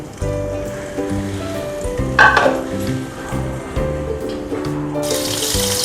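Green chillies are tossed into hot oil as tempering for a traditional Bengali fish chorchori, bringing a sharp crackle and hiss of frying over clattering utensils, ending in a louder sustained sizzle.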